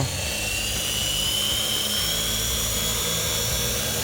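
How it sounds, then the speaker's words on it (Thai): A Bell 206 radio-controlled model helicopter runs up its rotor, giving a loud, steady whine with a low throbbing hum, close and continuous with no talk. "ให้ใบพัดหมุนจนสุดเสียงก่อนนะครับ"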